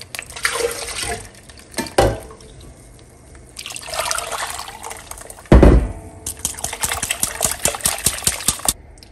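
Liquid poured into a blender jar holding onion, garlic, chiles and tomato, the water used for boiling them; several bursts of splashing and trickling with clattering pauses between, close and fairly loud.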